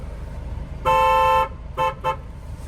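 A car horn sounds one long blast, then two short toots in quick succession, standing out clearly over a low engine rumble.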